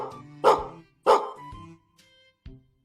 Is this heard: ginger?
no